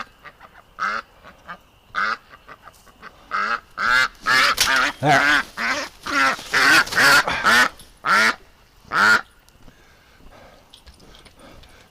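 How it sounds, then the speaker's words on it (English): A flock of ducks, stirred up by a dog, bursts into loud, rapid quacking in overlapping clusters that build to a noisy peak and then thin out to scattered calls. A single brief spoken word comes near the end. "Doug's got all the ducks worked up here"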